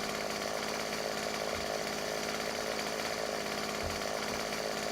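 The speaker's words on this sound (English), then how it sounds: "You wanted me to try the chainsaw as well, didn't you?" A chainsaw in the 7 Days to Die survival game runs loud and continuous, with a harsh buzzing drone and a couple of low thumps, heard alone without talk.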